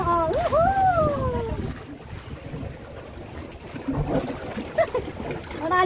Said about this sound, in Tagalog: Malalim yung pinapasukan ng dagat sa ilalim mo. Kaya tumutunog siya, bumabanda.